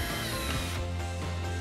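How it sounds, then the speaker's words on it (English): A power drill backs Phillips screws out of the clips on a CrossBreed Reckoning holster, giving a steady close motor whir with a slight shift in pitch partway through, and no talking. "for speed's sake, I'm going to use a drill today"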